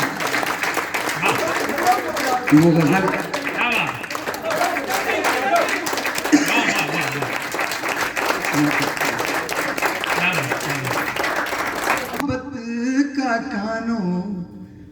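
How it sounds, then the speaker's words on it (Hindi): Audience applause at an Urdu poetry recital, a steady wash of clapping from a crowd lasting several seconds, with a voice speaking over it before it stops abruptly near the end. "ताली बजा सकते हैं"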